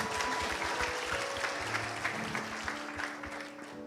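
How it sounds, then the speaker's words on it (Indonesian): A church congregation at a morning prayer service claps in sustained applause, with sustained musical tones and a hum beneath the clapping that fade slightly toward the end. "Jangan setengah-setengah dong tepuk tangannya."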